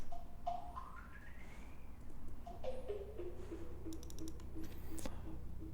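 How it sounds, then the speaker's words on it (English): Sampled sound played through an echo effect in Ableton Live while its delay time is changed, the repeats gliding up and down in pitch, with clicky repeating taps and a soft hum underneath. "One really cool thing with echoes is that if you change the time in the middle of it playing, it actually changes the pitch as well"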